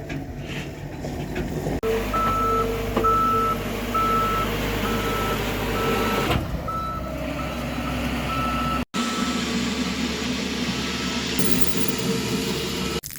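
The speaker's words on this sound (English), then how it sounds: "Good with that skid steer." A skid steer reverses at a garage build site, its backup alarm sounding repeated evenly spaced high beeps over a loud rumbling diesel engine, with a brief break in the noise partway through.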